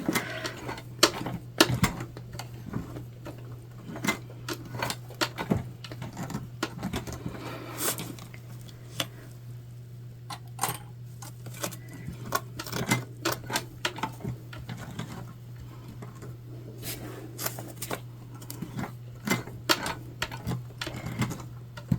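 A sewing machine works slowly through a tote bag seam with a low steady hum and irregular ticking needle strikes, moderately quiet and close, continuing throughout with no one talking.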